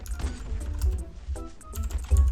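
A hand knocks against a computer keyboard while an Android emulator game runs, giving a short burst of clattering key hits over a steady low background hum.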